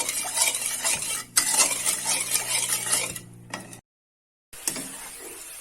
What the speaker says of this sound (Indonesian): Kita aduk-aduk sampai gulanya larut, supaya tidak mengerak dan gosong ya.